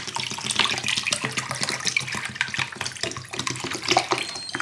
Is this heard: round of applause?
no